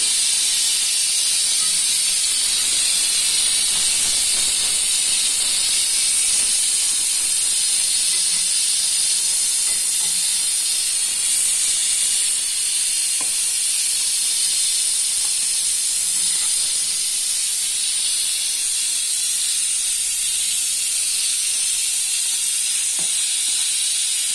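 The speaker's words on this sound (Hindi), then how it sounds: "देखिए प्रेशर कुकर का हम प्रेशर रिलीज कर देते हैं" A pressure cooker holding spinach and beef releases its pressure in one loud, continuous, high hiss of steam that stays close and steady for over twenty seconds without talk.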